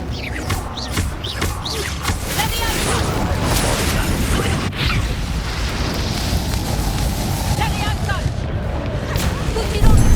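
A Confringo fire spell blast in the Hogwarts Legacy video game, heard as a dense, roaring burst of fiery noise that stays loud for the whole stretch, with crackling game effects layered over it.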